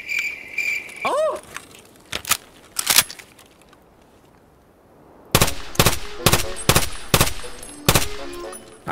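Gunshots in a Tarkov-style shooter video game: a few scattered shots early, then a rapid burst of about seven sharp, loud reports after a quiet stretch, with faint insect-like chirping in the background.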